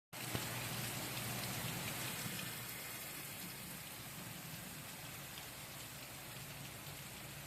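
Steady rain patters down evenly and continuously, a soft, close hiss that stays constant throughout with no voices.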